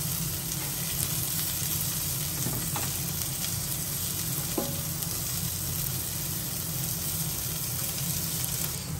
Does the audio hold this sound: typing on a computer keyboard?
no